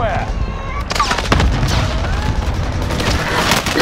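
A precision airstrike in a combat video game lands as loud, booming impacts and sharp cracks, with a dense rumble of blasts and gunfire filling the scene while voices talk over it.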